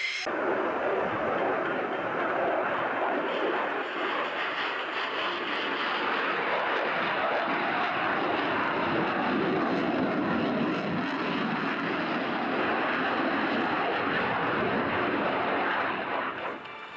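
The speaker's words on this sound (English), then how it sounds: "We're straight on now with our next fast jet display. This comes from the Polish Air Force, and Major Richard Seiler is your man" Polish Air Force fast jet performing a display flypast at an air show, a loud, sustained roar that holds steady across the whole pass before easing slightly at the end.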